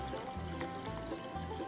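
Water poured onto black sand concentrate during a fine gold cleanup, a soft, quiet trickle and splash running steadily through the brief moment.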